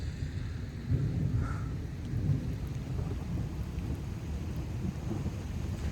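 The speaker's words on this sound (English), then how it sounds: "that was some of the most insane thunder that I've maybe heard" Heavy thunder rolls and rumbles through a lightning storm in Houston, Texas, booming loudly near the start and continuing over steady rain and a little wind.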